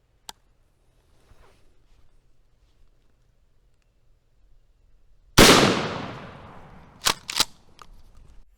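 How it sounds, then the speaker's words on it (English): One loud, close shotgun blast from a Remington Express firing buckshot at a pumpkin, with a long ringing decay and a couple of sharp knocks afterward, following near silence. "I'm going to shoot the first pumpkin with the Remington Express, then I'll go set up the other pumpkin and shoot"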